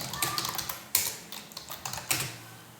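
Typing on a computer keyboard while working in drawing software: a run of crisp, irregular key clicks, close and fairly loud, with brief pauses between bursts and no talking.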